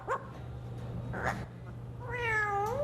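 Toby, a pet bird, imitates a cat's meow: a few short, separate meow-like calls, the last one long, rising and falling, close and clear over a low steady hum.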